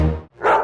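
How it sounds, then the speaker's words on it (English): A small dog, a yappy kennel dog in a yard, gives two quick, loud, close barks in under a second. "starts to bark."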